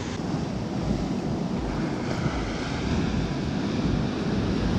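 Ocean waves break against rocky cliffs on the Algarve coast in Portugal, a dense, continuous wash of surf mixed with heavy wind rumble on the microphone.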